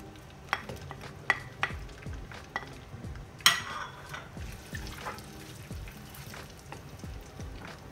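Onions and garam masala frying in oil for Afghani pulao, with a soft sizzle under repeated scraping and clinking of a spoon against the pot.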